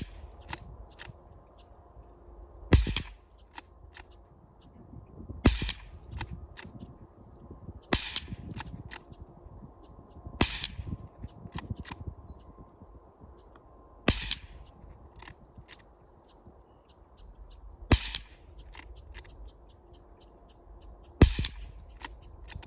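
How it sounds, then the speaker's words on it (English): Browning T-Bolt .22 LR bolt-action rifle fired free-handed at a steel target 25 yards away: seven sharp, loud cracks spaced several seconds apart, each with a bright ringing ping from the steel, over quiet outdoor background. "so I'm going to shoot it at 25 yards free-handed at the steel target"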